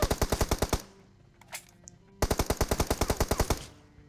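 Automatic rifle fire in the shooter game PUBG, two rapid bursts of evenly spaced loud shots separated by a short gap with a couple of faint distant pops, no talking.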